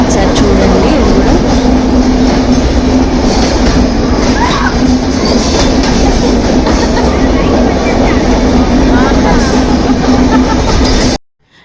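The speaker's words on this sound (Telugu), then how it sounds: "చూడండి, టన్నల్స్ వచ్చినప్పుడు ఎలా అరుస్తారో ట్రైన్లో ఉన్న వాళ్ళు." On the Araku valley line, a passenger train rumbles through tunnels with a loud, continuous roar of wheels on rails. Passengers' shouting voices mix into the din before it cuts off abruptly at the end.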